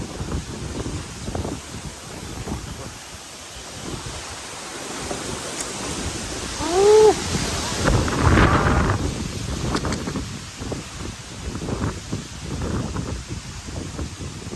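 Strong stormy wind sweeps across rice fields by a field hut, rushing and gusting in uneven surges that buffet the microphone, with rustling throughout and one brief tonal call midway.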